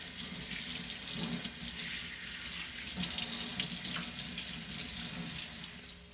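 A water tap runs steadily into a sink while a freshly caught wild smallmouth bass is rinsed under it, a continuous close splashing rush with slight shifts as the fish moves in the stream; no voices.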